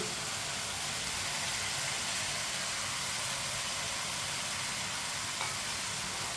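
Fried potato and okra stirred into sizzling masala in a pan for aloo bhindi, a steady close hiss and crackle of frying filling the whole stretch with soft stirring scrapes and no voices.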